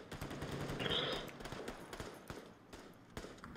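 Dense automatic gunfire in the war game Call to Arms, a steady rattle of shots with a brief louder burst early on, fairly distant and low in level.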